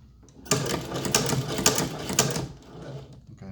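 A Chinese-made leather shoe patcher sewing machine stitching a patch onto a motorcycle vest, a steady rapid mechanical clatter running for about two seconds before slowing and stopping, close and fairly loud.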